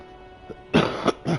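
A character in the video game Disco Elysium coughs, a quiet throat sound followed by two or three sharp, close coughs in quick succession.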